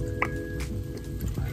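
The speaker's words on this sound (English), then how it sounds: "Put a third of soy sauce in here" Low-sodium soy sauce trickles and drips into a measuring cup in a kitchen, with a few soft wet splashes, close and fairly quiet.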